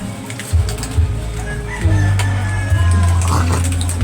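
Chickens cluck and a rooster calls amid a busy farmyard, with a steady low hum underneath and some background voices.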